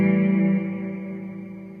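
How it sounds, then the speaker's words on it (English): A New Neighbour wet reverb pedal setting with light modulation: a sustained, harmonically rich note swells into a lush, gently wavering wash that slowly decays with no other sounds. "You have the standard new neighbour wet reverb"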